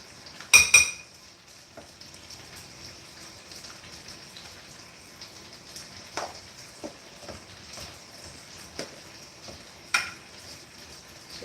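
Eggs and carrots are stirred in a bowl with utensils, opening with a loud clatter followed by scattered light clinks, taps and scrapes spread across the stretch, ending with another distinct knock.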